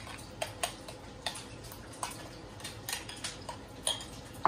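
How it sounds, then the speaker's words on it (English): A spoon stirs black pepper and salt into a pan for a ham and cheese burrito filling, giving light irregular clinks and taps against the metal over a steady background hiss. "And we are going to give it a stir."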